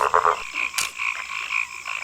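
Toads croak in the video game Ahriman's Prophecy, loud and steady with repeated ribbiting calls and a sharp hit sound partway through, no talk over it.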